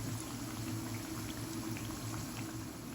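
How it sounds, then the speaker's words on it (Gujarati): Bhakharvadi snacks deep-frying in hot oil, a dense continuous bubbling hiss at low, steady level throughout, with no voices. "કેટલી મસ્ત તળાય છે."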